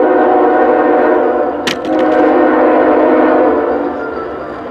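A CSX intermodal freight train rumbles past at Point of Rocks, Maryland, with a loud steady roar of cars and a brief sharp clank partway through.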